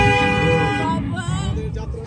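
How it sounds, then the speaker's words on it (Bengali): Horn of a tourist train in a park at Godagari, Rajshahi, resembling a bus horn: a loud, close, sustained harmonic honk lasting about a second, fading into background noise and chatter. "আমাদের ট্রেন চালু হয়ে গিয়েছে, বাসের মতো হর্ন দিচ্ছে ট্রেন"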